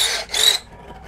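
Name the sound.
cheap generic cordless drill drilling through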